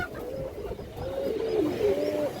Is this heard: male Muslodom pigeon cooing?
yes